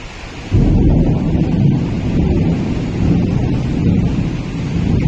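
A deep thunder roll breaks out half a second in and rumbles on heavily through a Kalbaishakhi storm in Bhubaneswar, with rain and wind buffeting the microphone underneath.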